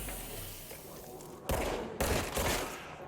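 Gunfire in the video game Control comes as two loud bursts of rapid shots a moment apart, preceded by quieter game ambience, with no talking.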